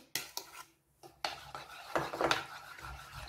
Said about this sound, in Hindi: अब जो ये हमने ड्राई इंग्रेडिएंट्स मिक्स करके रखे थे ये शामिल करेंगे इसमें थोड़ा थोड़ा करके।